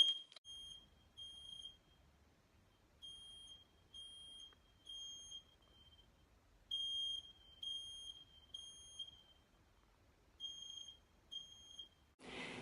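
A smoke alarm beeps indoors, its short, shrill chirps coming in evenly spaced groups of three or four over quiet room hum, ending with a brief burst of noise.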